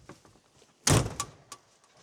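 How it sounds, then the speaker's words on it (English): A door swings closed with one sharp, close thunk, followed by a couple of lighter knocks as it settles, in an otherwise quiet indoor space. "just so the door can close"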